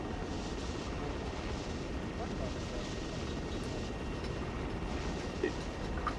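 A helicopter flying in the Arma 3 video game gives a steady loud rotor drone and rumble that fills the scene continuously, with people talking over it.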